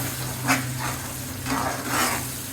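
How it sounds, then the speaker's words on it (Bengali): Chili and coriander powder being sautéed in a pan for a chicken roast, with a low steady sizzle and a few soft scraping stirs spread across the moment. "এটাকে ভালো করে কষাবো।"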